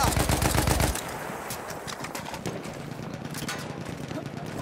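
Rapid gunfire from a first-person shooter game rattles loudly in a dense burst for about a second, then continues as scattered, quieter shots and battle noise under game sounds.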